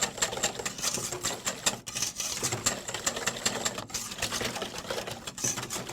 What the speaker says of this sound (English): Start whisking this.